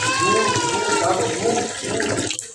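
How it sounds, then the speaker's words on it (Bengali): Tap water runs steadily over whole pabda fish being rinsed in a sink, a close, splashing gush that thins out at the end while a voice speaks over it. "কলটা ছেড়ে দিলাম, সেখানে মাছগুলো দিয়ে দিচ্ছি।"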